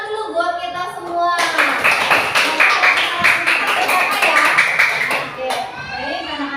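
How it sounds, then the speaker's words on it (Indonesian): Schoolchildren and their teacher clap together in a classroom during a lesson on honesty and gentle speech, a loud burst of quick, overlapping handclaps lasting several seconds and then fading, with a voice heard faintly at the start and end. "Kasih tepuk tangan dulu buat kita semua."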